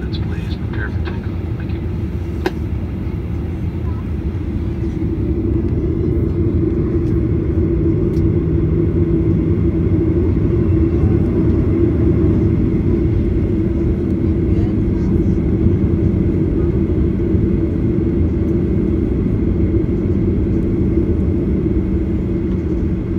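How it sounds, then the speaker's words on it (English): Jet engines of an American Airlines Boeing 737-800 roar through the cabin during takeoff, a steady broad rumble building slightly and holding loud for the whole stretch. "Flight attendants, please prepare for takeoff."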